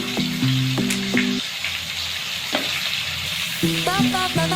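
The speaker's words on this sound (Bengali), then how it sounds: "এবার আমি সমস্ত কিছু ভালো করে মশলাটা একটু কষিয়ে নেব।" Spice paste with fish is fried and stirred in a pan for a spicy fish curry, giving a soft, continuous sizzle with occasional stirring clatter, with no talk.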